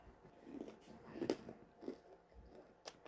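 Someone bites and chews fresh bacon close to the microphone, giving a few quiet crunchy bites at an uneven pace.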